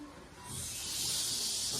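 A voice imitates a snake's hiss: a sustained breathy hiss that swells louder after the first half-second and holds steady, close and alone without speech.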